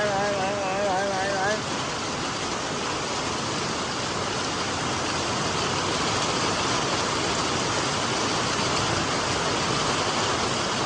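Heavy rain pouring onto a road in Bhaguda, with water flowing across it, makes a loud, steady, continuous roar that never lets up.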